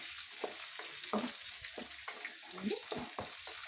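Onions fry in about three tablespoons of oil for a ridge gourd sambar, a soft, fairly faint sizzle punctuated by irregular spatula taps and scrapes against the pan, with no voices.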